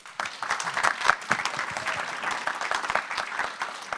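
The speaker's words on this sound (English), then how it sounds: "So can we please have a round of applause for our panel?" Audience applauding a patient advocacy panel, a steady patter of many hands clapping at moderate level for several seconds.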